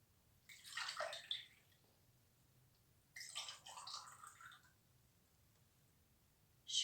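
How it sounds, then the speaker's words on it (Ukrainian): Water runs and splashes in two short bursts, like a tap filling a basin, separated by quiet, with a brief third gush at the end. "Вірно, це звук води"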